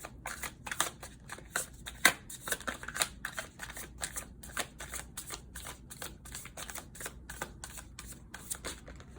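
A deck of tarot cards is shuffled up close, with quick, rhythmic papery flicks and snaps that repeat steadily and no voices.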